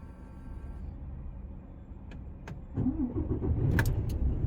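A truck engine idling at low level, then cranking and catching around the midpoint into a louder, steady running rumble, close by with no talk.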